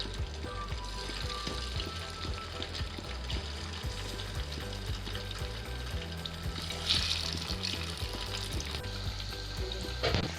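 Pieces of chicken, par-cooked for chicken mandi, fry in hot oil with a steady, dense sizzle and crackle that runs throughout, close and fairly loud, with a brief swell of spitting near the end.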